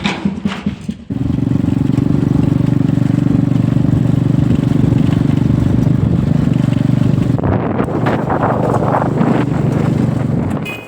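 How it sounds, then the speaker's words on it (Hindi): A motorbike carries riders out to a farm field, its engine droning loud and steady close to the microphone with heavy wind rumble, after a short stretch of handling noise at the start. "चलो भाई बैठ लो, बाइक पर चलेंगे।"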